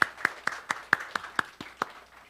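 A church congregation claps in a steady, even rhythm, about four sharp claps per second, fairly faint and with no voices.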